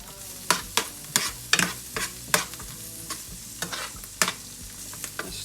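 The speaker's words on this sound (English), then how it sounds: "stir this around just a little bit until it's a little bit tender" Food frying in a hot pan is stirred with a utensil, giving a steady sizzle under a run of sharp scraping and tapping strokes at an irregular rhythm, close and fairly loud.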